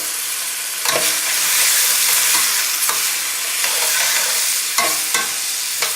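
Turkey medallions and vegetables sautéing over a high flame in a pan, a loud continuous sizzle broken by several sharp stirring scrapes, no talking.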